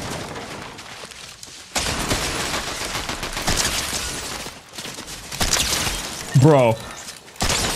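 Fortnite gunfire during FNCS finals play: several bursts of shots and sharp impacts come in clusters, fairly loud and close, with a voice talking over parts of it.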